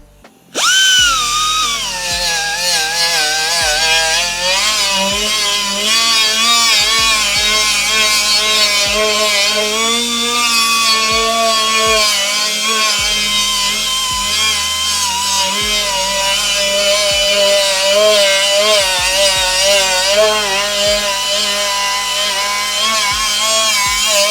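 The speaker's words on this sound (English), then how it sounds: "We're gonna be removing the paint around the edge here and cleaning the edge at the same time." A handheld power tool strips paint and cleans the edge of a car panel ahead of welding, running continuously and loud for nearly the whole stretch with a steady whine that wavers in pitch under changing load.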